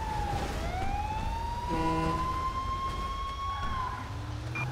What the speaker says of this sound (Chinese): 救护车现在才来，非常的慢啊